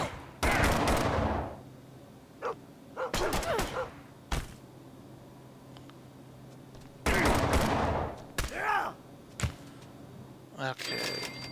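Short bursts of automatic gunfire in the post-apocalyptic game Fallout Shelter, several separate volleys a couple of seconds apart, loud and close, with brief spoken remarks between them.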